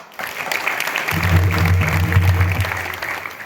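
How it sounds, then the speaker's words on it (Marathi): Audience applause breaks out at a Marathi Harikirtan gathering during an Akhand Harinam Saptah, a dense burst of clapping that swells and holds for several seconds, with a low hum running beneath. "तसं आमच्या शीतलताई मुंडे यांच्यासाठी जोरदार टाळ्या वाजवा."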